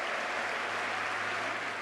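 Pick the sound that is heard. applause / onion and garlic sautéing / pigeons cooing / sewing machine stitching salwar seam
applause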